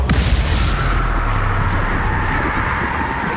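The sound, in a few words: spell blasts (Confringo, Bombarda) in video game Hogwarts Legacy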